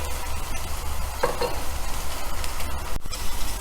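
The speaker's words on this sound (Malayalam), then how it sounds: "1 ടീസ്പൂൺ ജിഞ്ചർ ഗാർലിക് പേസ്റ്റ് ഇതിലേക്ക് ഇട്ട് കൊടുക്കാം. എന്നിട്ടൊന്ന് നന്നായിട്ട് മൂപ്പിച്ചെടുക്കാം." Ginger garlic paste sautés in a pan for paneer masala, giving a continuous close sizzle with occasional stirring scrapes and a sharp clack near the end.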